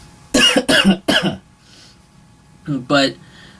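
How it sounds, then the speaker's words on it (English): Three sharp coughs in quick succession, close and loud, followed after a pause by two more short coughs. "it was an actual cough"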